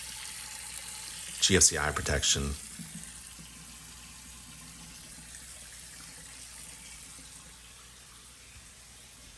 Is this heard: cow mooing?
no